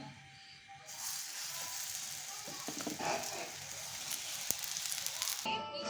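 Beef and potato keema parathas fry in a frying pan, giving a continuous sizzle with scattered crackles and pops that starts after a brief quiet moment and drops off near the end.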